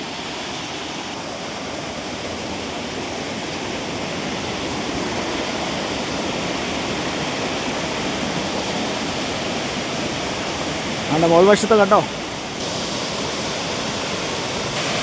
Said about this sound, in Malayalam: പാറക്കെട്ടിൽ കൂടെയാണ് വെള്ളം ഇങ്ങനെ ചാടി വരുന്നത്.